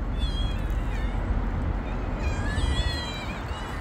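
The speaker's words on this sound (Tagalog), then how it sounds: "Ang mga pusa oh, nagutom." Several cats meow repeatedly at close range, overlapping high cries over a steady background hum, with no talking.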